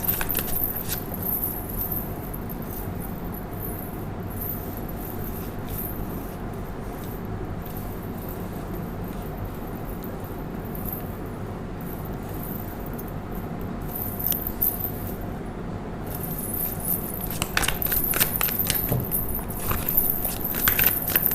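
Tarot cards are shuffled by hand. The sound is a steady, soft rustling and flicking close by, with busier crisp bursts of card riffling toward the end, over faint background noise.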